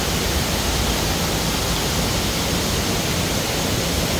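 Kroeng Krawia Waterfall rushes beneath a rickety bridge, a steady, loud, dense roar of falling water filling the whole stretch without change or voices.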